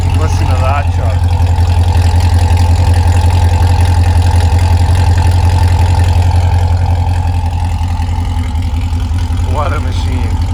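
A 2017 Chevrolet Corvette Grand Sport 1LT with performance exhaust and intake idles close by, a steady deep rumble that holds for the whole stretch.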